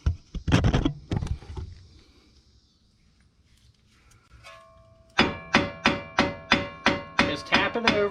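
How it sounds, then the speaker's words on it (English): A Chevy Traverse brake rotor being centered is struck with light taps; a few dull knocks come first, then after a quiet gap about nine regular ringing metallic taps, close and clear. "You can tap on your rotor there, just not super hard."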